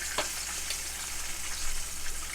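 A large pork chop fries in a skillet, giving a steady, close sizzle with faint crackles and a brief stir or scrape, no voices over it.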